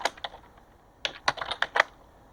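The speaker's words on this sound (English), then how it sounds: "So now I'm hitting Control Shift S, which is our save as." Someone presses keys on a computer keyboard, entering a shortcut while preparing a print-and-cut file. The sharp, close clicks come in a quick, uneven burst of about a dozen keystrokes with short pauses between them and no talk.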